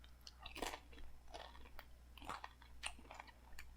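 A plain corn-flavored Korean Doritos tortilla chip is eaten alone, with several crisp crunches and chewing bites close to the mic, faint and quiet.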